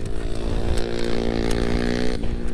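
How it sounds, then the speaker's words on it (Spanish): Small motorsport engine at the Yepes circuit idling and revving roughly after its chain came off, a loud, continuous buzzing drone with uneven, wavering pitch close by. "Ya suena el motor, algo raro"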